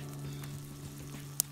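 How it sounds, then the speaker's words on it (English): Food sizzling in a pan over a campfire on a solo canoe trip at Little Brother Lake in Haliburton, a soft, steady frying hiss close by and quiet, with one brief sharp crackle near the end. "I got the fire going. It's sizzling nice."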